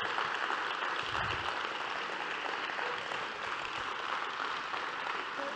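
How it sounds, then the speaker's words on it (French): A large conference audience applauds the teams at a closing session, a continuous, moderately distant roar of many hands clapping at an even level throughout. "Je vous demande de les applaudir,"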